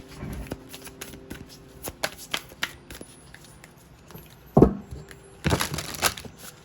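Tarot cards being shuffled for a pick-a-card reading, heard up close as a soft papery riffle at the start, then louder bursts of card shuffling and tapping that grow more intense near the end.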